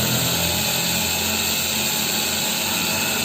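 A power sander with 80-grit sandpaper grinds against stone while polishing, producing a continuous, loud, high-pitched whine and abrasive hiss that holds steady from start to finish.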